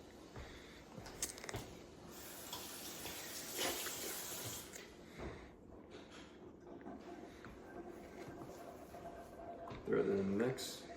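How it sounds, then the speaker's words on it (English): Blueberries are rinsed under a running kitchen tap, a soft, steady stream of water with bursts of splashing and clattering, a louder splash near the end, and a person talking quietly at times. "I'm going to rinse them off."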